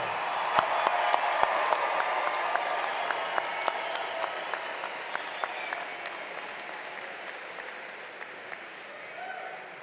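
Sustained applause and cheering from an audience at a university fall commencement ceremony, a dense wash of many hands clapping steadily for the new graduates with scattered sharp claps standing out.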